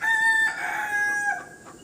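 A rooster kept at a home in rural Assam crows once, a clear, fairly close call lasting under two seconds with no talking over it.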